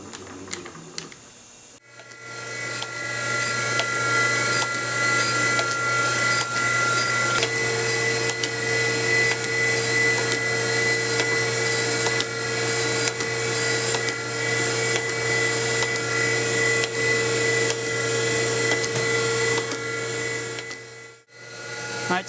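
A power grinder removing corrosion from the face of a gear pump during a repair. It whirs steadily and evenly for about twenty seconds after a short start, with a constant hum beneath, and stops near the end.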